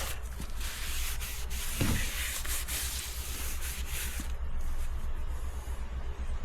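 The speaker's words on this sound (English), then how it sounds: "I'm gonna clean with brake cleaner. Wipe it off." Rear brake parts for a 2005-2012 Acura RL being sprayed with brake cleaner and wiped off, a close, continuous rubbing hiss of cloth on metal with a brief louder scrape near the start, no talking.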